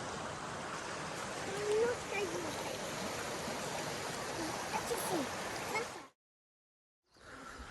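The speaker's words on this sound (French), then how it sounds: "derrière on a la rivière" Steady broadband rushing of a river flowing nearby, continuous and fairly even, cutting out briefly near the end before resuming.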